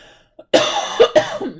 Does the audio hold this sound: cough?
yes